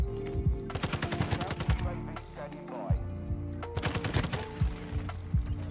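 SCAR rifle fire in Modern Warfare II gameplay crackles in rapid automatic bursts, two long strings of sharp shots separated by a short pause, with a voice talking over parts of it.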